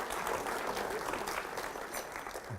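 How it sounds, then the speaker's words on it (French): A crowd at the launch of a women's trade fair claps steadily and loudly throughout, a dense, even wash of applause with no pause. "Je vais vous demander de l'applaudir"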